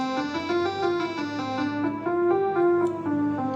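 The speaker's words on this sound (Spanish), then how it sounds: "Y ahora le voy a ir poniendo un filtro que atenúa los armónicos agudos." A buzzy sawtooth-wave synth tone plays a slow run of notes while a low-pass filter gradually dulls its brightness, becoming muffled and softer-edged over a few seconds.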